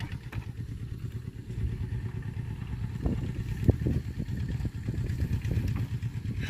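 Motorcycle engine running steadily as it is ridden along a farm track beside rice fields at harvest time, a close, continuous mid-pitched drone with slight rises in revs, heard alone.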